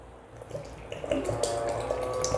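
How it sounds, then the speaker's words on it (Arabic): Milk pours into a teapot of spiced Adeni tea, a steady liquid splashing and trickling that sounds close and fairly even, with faint bubbling, and nobody talks. "نسكب الحليب داخل البراد نفسه"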